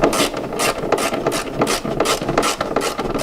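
A ratchet clicks in a fast, steady rhythm as it snugs bolts on a Harley-Davidson Low Rider ST, loud and close throughout, with no voices.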